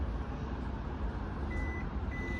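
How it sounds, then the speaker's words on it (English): A single short electronic beep from a SsangYong Rexton's electronic tailgate, confirming a stored height setting, sounds once over a steady low rumble of background noise, then a second fainter beep follows. "till you hear that beep"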